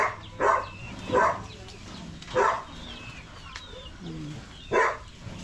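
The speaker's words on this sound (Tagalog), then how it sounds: "tumatahol po talaga yung pag nakikita niya si Tata ang naririnig niya" A dog barks four times at uneven intervals, sharp and fairly close, with faint background sounds between the barks.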